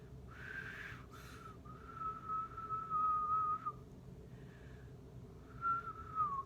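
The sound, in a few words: person imitating a whistle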